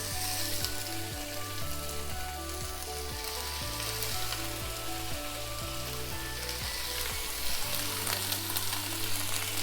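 Beef searing in oil in a very hot pot for a stew, a steady crackling sizzle that holds at an even level throughout with no talking.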